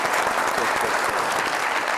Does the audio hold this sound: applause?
yes